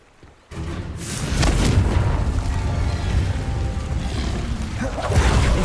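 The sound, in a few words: Confringo explosion spell in the video game Hogwarts Legacy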